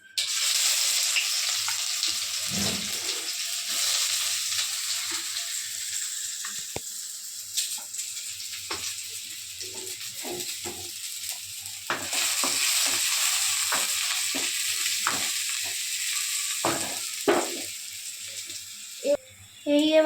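Chopped onions fry in a pan for fish curry, a steady sizzle with frequent scraping stirs and clinks of a utensil, close up and loud throughout.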